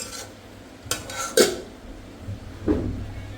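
A bowl is handled and set down on a hard surface, giving a few close clinks and knocks with scraping in a quiet kitchen.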